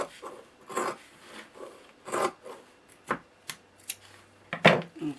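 Scissors slicing through old leather boots folded together for an upcycled bag, a series of close rasping cuts in uneven bursts with short pauses between strokes.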